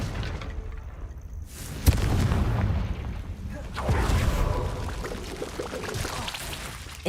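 A Confringo blasting spell explodes in Hogwarts Legacy: a sharp burst lands just before the two-second mark, followed by a sustained rumbling roar and debris-like crackle that swells again midway and lingers to the end.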